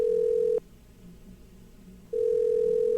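Telephone ringing in the You Don't Know Jack game: two loud, steady electronic ring tones separated by a quiet pause, with no talk over them.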